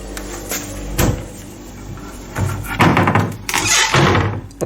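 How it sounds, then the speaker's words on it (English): Hotel room cupboard doors at the Bedrock Hotel in Bali opening and closing, heard up close as a few sharp wooden clacks and thunks with rattling and scraping in between. "Open these doors."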